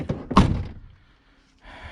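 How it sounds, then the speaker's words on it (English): A single solid thunk as the door of a 1988 Chevrolet Suburban shuts, close and loud, followed by a quiet pause and faint background noise. "Doors shut great."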